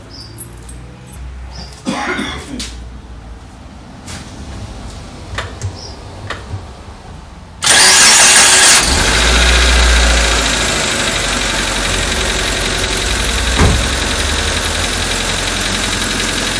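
A 2004 Mitsubishi Lancer fresh from a service with new plugs cranks and fires abruptly after some quiet clicks and handling noises, then settles into a loud, steady, smooth idle close by.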